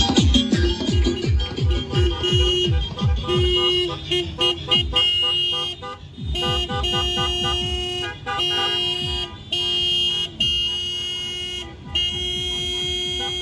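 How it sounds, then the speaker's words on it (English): Car horns blare repeatedly in a Dia de los Muertos themed caravan passing a middle school, with music playing loudly throughout and honks overlapping in bursts. "residents living near Washington Middle School were met with loud blares of car horns"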